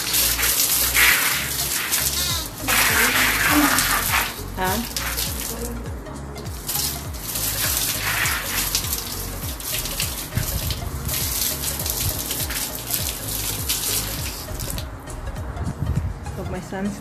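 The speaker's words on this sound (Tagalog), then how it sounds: "Ito yung hose eh." A garden hose runs water on a rooftop, a steady broadband splashing and gushing that continues throughout, with a person speaking over it and occasional louder bursts of spray.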